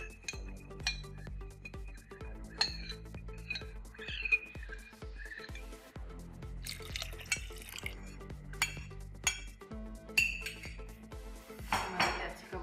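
Cardamom sharbat syrup being mixed in a pot, with repeated clinks of a spoon against the metal, light liquid sloshing and a few sharper clatters, close and fairly quiet.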